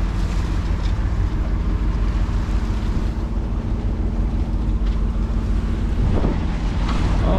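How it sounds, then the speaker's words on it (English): Wind gusts across a Beneteau 281 sailboat under way, a constant loud rushing roar buffeting the microphone, with water wash and a brief louder flurry near the end. "the wind just decided to kick in"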